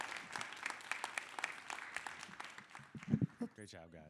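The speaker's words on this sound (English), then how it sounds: "Can we give him a round of applause?" Audience applause at a community engagement session in a high school, a steady patter of clapping through most of the stretch, with voices briefly breaking in toward the end.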